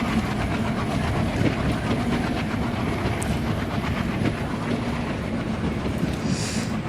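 A diesel train in an Indian Railways simulator game rolls out of a stop, with a continuous heavy rumble and rhythmic wheel clatter on the track and a brief hiss near the end.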